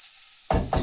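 Egg and chilli powder dropped into a hot pan for egg rice: sudden loud sizzle bursting in after near silence, then a second surge of crackling, close and intense.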